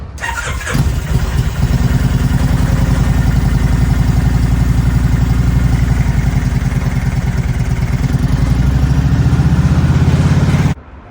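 A 2004 Kawasaki Vulcan VN1600 Classic motorcycle with fuel issues, started with a jump box and ether, cranks and catches, then settles into a loud, steady, throbbing idle close by that runs until it cuts off.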